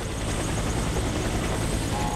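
Helicopter noise in the video game Warface, a steady, dense rotor and engine roar that stays loud and unbroken throughout without any talking.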